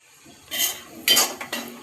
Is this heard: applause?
no